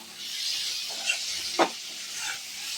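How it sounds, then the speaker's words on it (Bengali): Potatoes and spices stir-fried in a pan for a homemade soybean biryani, a steady close sizzle with a few brief scraping stirs of the spoon and no talking. "এইভাবে বেশ কিছুক্ষণ তো আমি আলুটা দিয়ে মশলাটাকে দিয়ে কষিয়ে নিলাম।"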